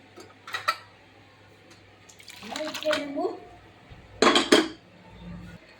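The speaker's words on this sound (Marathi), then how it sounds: "आता हे डाळीचे मिश्रण आपण चटणीमध्ये घालूया" A dal and chilli mixture is tipped from a vessel into chutney in a pan, heard as close metallic scraping and clanking of utensils in a few separate bursts, with a brief wet, sloppy slide in the middle.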